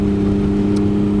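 A Can-Am Ryker three-wheeler engine on the move on a sunny afternoon in Smyrna, Georgia: a loud, steady mid-pitched drone with a constant hum and rushing wind, heard close and unbroken.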